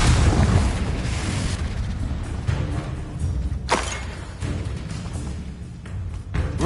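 Confringo fire-blast spell exploding in Hogwarts Legacy, a dense rumbling blast with a thudding burst partway through, set against a continuous loud game soundscape.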